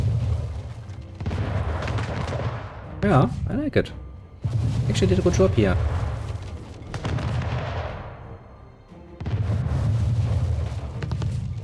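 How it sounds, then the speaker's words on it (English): Warship cannons fire in a naval battle in Anno 1800, booming bursts in repeated waves under game ambience, while someone speaks briefly over the gunfire. "the cannons actually sound rather nice"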